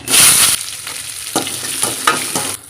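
Onions, green chillies and curry leaves sizzle and crackle steadily in hot oil, with a few sharp scraping stirs of a spoon cutting through the frying.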